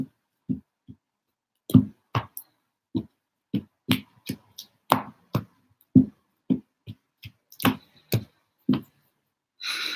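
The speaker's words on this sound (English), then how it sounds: "Give them a good shuffle." Tarot cards are shuffled in separate sharp riffles and taps, irregularly spaced and close, alone without talk over them.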